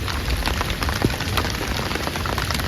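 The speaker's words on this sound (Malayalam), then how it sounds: "എടാ മഴ കൂടുവാണല്ലോ." Steady monsoon rain patters on surfaces near a backwater lake in a Kerala village, a dense, even hiss with scattered louder drops and no voices.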